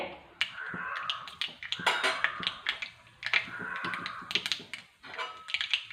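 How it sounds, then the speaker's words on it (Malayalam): Mustard seeds popping in hot oil in a home kitchen pan, a dense run of sharp crackles and snaps repeating close up throughout, with no talk. "കടുക് ഒന്ന് പൊട്ടട്ടെ"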